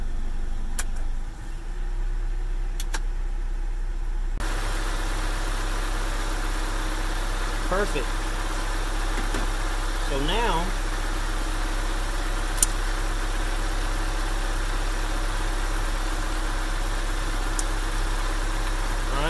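A Mazda B2000 pickup engine idles steadily at close range, a low continuous hum with a brief change in tone early on, while someone speaks over it now and then.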